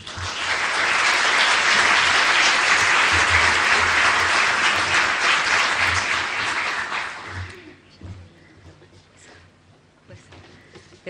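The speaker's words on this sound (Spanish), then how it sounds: "le pido que aplaudan a la señora María Simón" Loud, sustained applause from a large crowd at the Frida Awards 2011 ceremony for about seven seconds, then fading out to a quiet room with faint murmurs.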